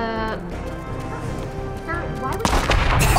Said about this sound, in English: He dove out with the way of the explosion from the duck.